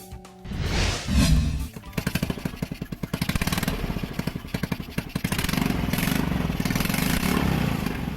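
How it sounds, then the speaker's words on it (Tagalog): An old disused car fitted with a motorcycle engine starts and runs, its engine putting out a rapid, steady, close putter with rising revs and no talk over it. "Kining kotse nga wala na ginagamit, napadagan sa Tagumenyong si Jet Bakan, gamit lang ang makina sa motorsiklo"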